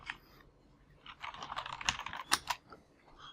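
Typing on a computer keyboard: a quiet run of close, irregular key clicks and taps, sparse at first and then quicker in the middle, heard alone without talk.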